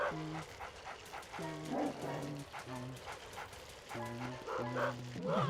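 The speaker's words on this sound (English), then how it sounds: "make that yappy dog of yours quiet." A small yappy dog in the Luigi's Mansion video game barks and yips in repeated short bursts, steady and fairly close over background game music.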